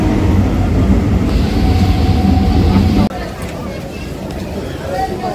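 Inside a local train running from Sodepur to Ranaghat, a loud steady rumble of wheels and carriage fills the air, then shifts abruptly to a quieter, hissier ride, with faint passenger chatter underneath.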